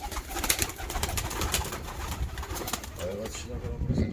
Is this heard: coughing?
no